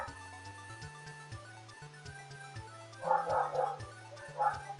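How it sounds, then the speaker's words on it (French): Small dogs bark in the Klonoa Heroes video game, with short yips and barks rising over steady game music and growing louder in two bursts toward the end. "Il y a les petits chiens qui aboient."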